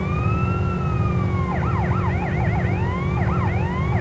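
Police car siren in the video game GTA San Andreas, loud and continuous, first a long slow wail and then a fast yelping warble, over steady engine rumble.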